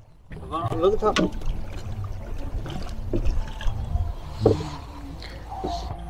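A boat carries riders on the river at the confluence of the Torsa, Kaljani and Gharghoria, with steady water wash and occasional splashes and knocks beneath people talking.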